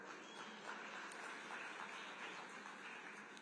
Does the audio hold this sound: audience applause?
yes